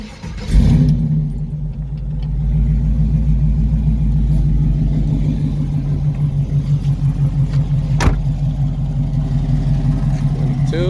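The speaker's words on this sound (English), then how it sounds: "Car fires up every time," A 1970 Chevelle with a supercharged LSA V8 and T56 Magnum transmission cranks and fires, then settles into a loud, steady, lumpy idle close by, with a brief sharp knock partway through.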